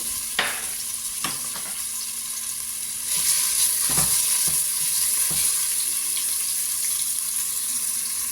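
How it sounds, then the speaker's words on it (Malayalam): Two large chopped onions frying in hot oil in a cooker pot for Arabian madhoot rice, a steady close sizzle that grows louder midway, with a few sharp clicks and stirring knocks. "ഓയിൽ നല്ലപോലെ ചൂടായതിന് ശേഷം 2 വലിയ ഉള്ളി അരിഞ്ഞു വെച്ചത് നമുക്കിതിലേക്ക് ചേർക്കാം"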